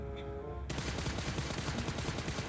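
Sudden rapid, continuous gunfire in PUBG Mobile erupts after a brief quiet moment and keeps going, loud and dense, like automatic weapons firing nonstop.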